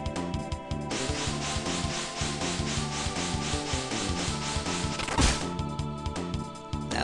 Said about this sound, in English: So I want to try out this one, the drill kick.